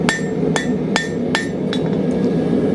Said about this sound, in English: just over the horn of the anvil, give it a couple taps